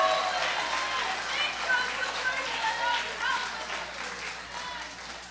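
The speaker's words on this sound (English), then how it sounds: "take 10 seconds, clap your hands, and shout unto God with a voice of triumph" A church congregation claps and shouts in praise, a sustained wash of many hands and raised voices filling the room and fading slowly toward the end.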